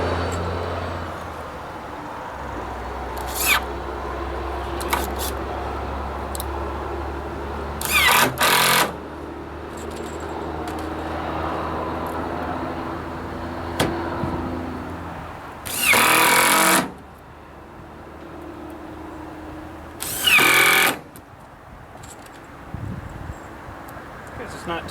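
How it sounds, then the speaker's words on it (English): A power drill drives screws into a table kit, giving several short loud whirring bursts separated by pauses, with quieter handling sounds between them. "So somewhere there we'll drive these screws in."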